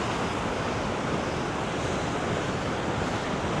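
Sea at Boscastle harbour surges in a constant hissing wash of surf, fairly close and even in level, mixed with gusty wind noise on the microphone and no speech.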